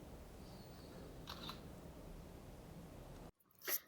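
A Doogee N40 Pro phone's camera shutter fires once while a selfie is taken, a short sharp click standing out after steady background hiss cuts to near silence.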